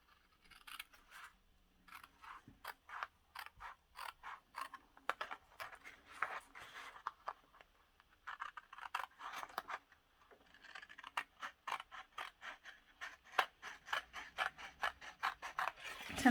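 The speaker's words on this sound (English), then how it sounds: "I'm just going to cut round like so" Scissors snip around a handmade greeting card in quick, close, crisp cuts, clustered in rapid runs separated by short pauses, quiet and with no one talking.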